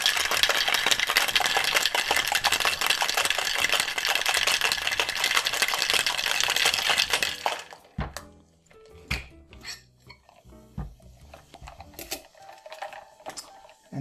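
A cocktail shaker full of ice is shaken hard for about seven and a half seconds, a loud, dense, rapid rattle of ice against metal. It then stops abruptly and gives way to scattered clinks and handling knocks.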